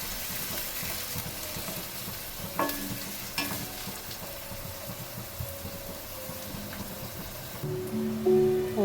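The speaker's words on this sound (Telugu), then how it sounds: "ఆనియన్స్ వేసి ఫ్రై చేస్తాను." Two chopped onions sizzle in hot oil in a pan, a steady close crackle with occasional stirring clinks and scrapes throughout.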